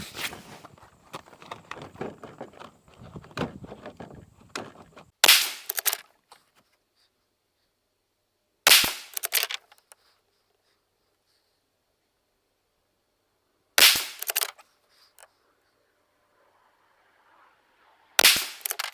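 Four loud rifle shots from a 6.5 Creedmoor firing Nosler 120 grain BT ammunition ring out at an outdoor range, spaced several seconds apart with brief echoing tails, after some handling and shuffling noise at the start.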